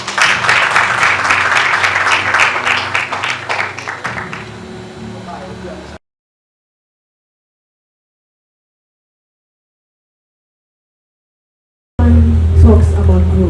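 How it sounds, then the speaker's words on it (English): Audience applause at an HR conference in Kumasi, a dense burst of clapping that fades after about four seconds, then silence, then a loud voice returns at the end. "Round of applause."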